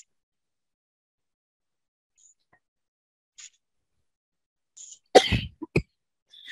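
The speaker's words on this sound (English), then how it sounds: "Making me cough." Near silence broken by a single harsh, close cough with a short throat-clearing follow-up after sipping Flamin' Hot Mountain Dew, plus a few faint clicks beforehand.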